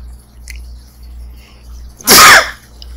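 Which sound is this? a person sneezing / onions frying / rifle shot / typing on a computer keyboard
a person sneezing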